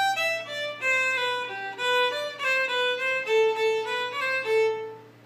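A solo Irish fiddle plays a quick run of melodic notes, some tied together in one bow stroke with a recovery up-bow, over a steady low drone, close and clear without voices.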